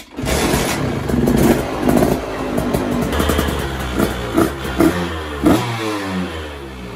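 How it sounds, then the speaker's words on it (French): A 150 SX dirt bike engine, freshly repaired, catches and revs in a string of sharp throttle blips over a steady rough idle, loud and close with no talk. "si j'ai bien fait mon boulot, la moto devrait démarrer"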